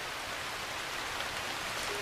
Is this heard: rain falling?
yes